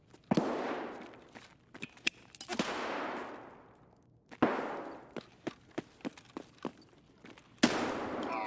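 Explosive bangs from an Escape from Tarkov firefight, with a flashbang grenade going off: several loud blasts with long decaying tails, followed by a run of sharp, evenly spaced cracks like gunshots, and a final loud burst near the end.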